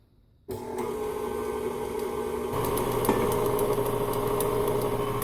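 An electric stand mixer runs on speed 2 while eggs go in one at a time for chocolate chip coconut cookie dough, a steady motor whir starting after a brief silence and growing slightly louder and fuller partway through.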